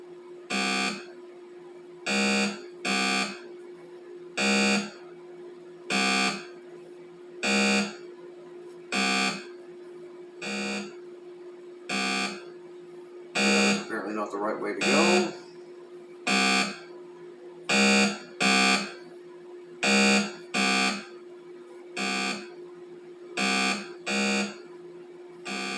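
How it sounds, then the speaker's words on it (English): Skeleton+, an Atari 2600 homebrew game, sounds its skeleton proximity warning as a steady run of evenly spaced electronic beeps over a constant buzzing drone, with a brief noisy burst near the middle and no talking. "the sound, it will get louder as you approach closer to a skeleton"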